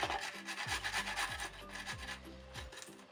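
Garlic cloves rubbed quickly over a fine grater, a soft steady rasping in short repeated strokes, close and fairly quiet.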